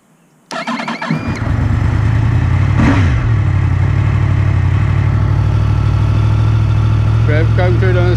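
A Yamaha MT-10 SP motorcycle in track mode starts up and settles into a loud, steady, close idle, with one brief blip of revs partway through.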